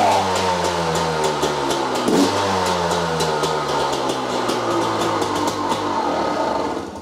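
A TM 300 two-stroke motorcycle engine revs hard and continuously at close range, its loud buzzing drone rising and falling with throttle blips.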